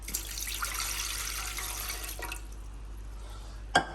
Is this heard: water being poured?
yes